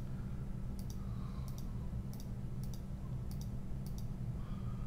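Six pairs of quick mouse clicks come at roughly even intervals while pixels are filled in drawing software. The clicks are crisp and close over a low steady hum, with no talking.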